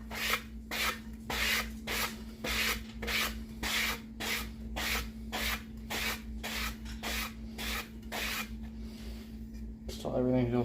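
Rhythmic back-and-forth strokes of a sanding block on epoxy around a glitter tumbler rim, about a dozen in steady succession, close up, over a constant low electrical hum.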